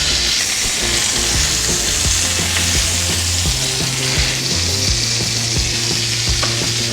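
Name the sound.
Walter's hot dogs sizzling as they cook in a pan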